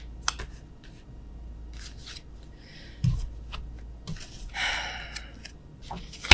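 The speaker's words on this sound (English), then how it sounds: "All right, I got flip cards here." Tarot cards are flipped and handled close by, giving a scattered series of soft papery snaps and rustles with quiet gaps between them.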